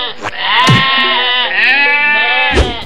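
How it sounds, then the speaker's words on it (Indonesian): A cartoon goat bleats loudly in two long wavering calls, close and prominent, in an animated school story. "Sampai kambing pun ikutan heboh."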